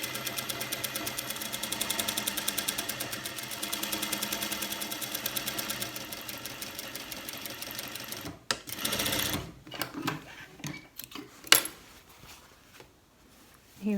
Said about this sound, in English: So these sides of the pockets have to be stitched close to the edge